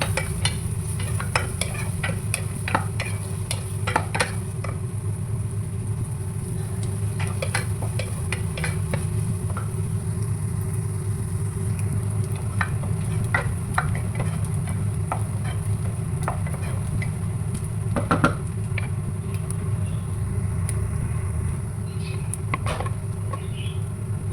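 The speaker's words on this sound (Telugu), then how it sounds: "ఇదిగోండి, ఉల్లిపాయలు, పచ్చిమిరపకాయలు, ఎల్లిపాయ వేగిపోయింది కదా." Onions, green chillies and garlic fry in a pan for an eggplant curry, a steady close sizzle running throughout with scattered crackles and spatula scrapes, no talking.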